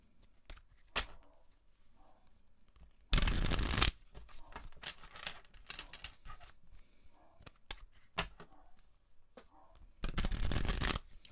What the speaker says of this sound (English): Let's pull you some tarot cards.